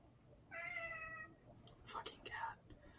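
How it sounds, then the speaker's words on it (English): A house cat meows twice in quick succession, the first a drawn-out cry and the second shorter and broken, fairly close and fairly quiet amid faint room noise. "Fucking cat."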